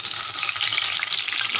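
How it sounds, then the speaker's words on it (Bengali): Brinjal pieces fry in hot oil in a pan, giving a loud, steady hiss and crackle of sizzling with no talk. "ভাজা চলছে।"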